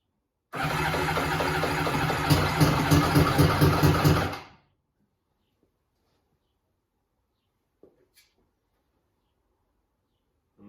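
A triple-swap vehicle engine cranks and fires, running rough and loud for about four seconds before cutting out abruptly, followed by near silence with a couple of faint clicks.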